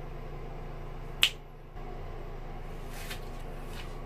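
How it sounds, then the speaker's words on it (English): A single sharp finger snap rings out clearly against a quiet indoor background, followed by a brief drop to near silence. "I'm gonna do that snappy finger thing where I snap my fingers"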